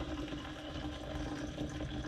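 Hot water from a freshly boiled kettle pours steadily into a yogurt maker in a caravan, a continuous close splashing trickle filling the container for a couple of seconds.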